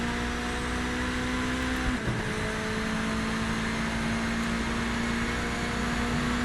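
Mazda MX-5 race car driving in Project Motor Racing, a steady engine hum with a sustained tone that briefly drops around a gear change, then settles back to a constant drone; no talking.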